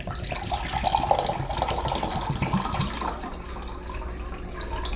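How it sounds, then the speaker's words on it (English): Fresh coconut water pours steadily into a measuring cup, a close, continuous liquid splash and trickle lasting several seconds with no talking. "I'm just going to pour the coconut water into the cup."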